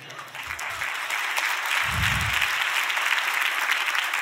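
Hesitant applause from a church congregation, a broad wash of scattered clapping that builds slightly and holds steady, with a couple of low thumps near the start.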